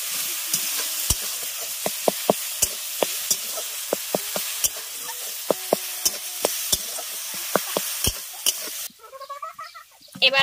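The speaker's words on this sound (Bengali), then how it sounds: "এবার সমস্ত কিছুকে খুব ভালোভাবে এইভাবে মিশিয়ে নেব" A spatula mixes cucumber leaf paste with salt in a hot pan, making repeated sharp clicks and scrapes over a steady sizzle, which quietens near the end.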